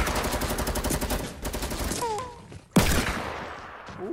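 Rapid gunfire bursts from the video game Fortnite, dense repeated shots filling the first seconds, then a sharp loud blast near the middle followed by continued in-game noise, with no talk over it.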